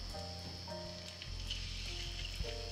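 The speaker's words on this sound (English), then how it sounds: "Always grill the mackerel from the skin side" Mackerel grilling skin side down for Japanese salt-grilled fish, a steady close sizzle with a constant hiss running throughout and no voices.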